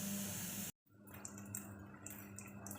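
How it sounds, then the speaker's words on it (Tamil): Drumstick (moringa) leaves being rinsed in a bowl of water: close, continuous splashing and swishing that breaks off for a moment and then resumes with lighter sloshing and trickling. "முருங்கைக்கீரையை இந்த மாதிரி தண்ணியில் போட்டு அலசிக்கலாம்"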